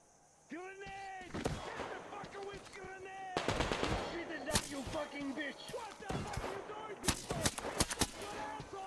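Rapid bursts of gunfire in the video game Metro Exodus, sharp repeated shots clustered in volleys amid game effects and a sustained tonal background, with a person talking intermittently.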